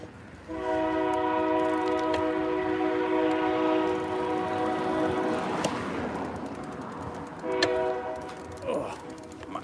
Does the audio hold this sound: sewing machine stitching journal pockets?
no